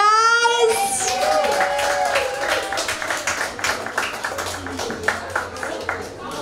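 Applause rises from a small comedy club crowd in Richmond, Virginia, after comedian Grace Moyer's set. The steady, moderately loud clapping follows a brief burst of voices at the start.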